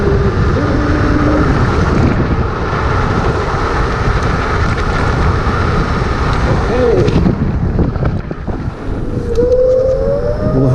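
A Kaabo Mantis 8 electric scooter accelerates at full throttle along a road, heard as a loud steady rush of wind buffeting the microphone with a faint rising motor whine near the end.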